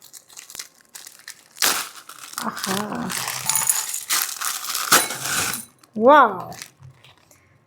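Frozen homemade green peas rattle and crunch inside a plastic packet in short, crinkly bursts, close and fairly loud, with a woman exclaiming over them.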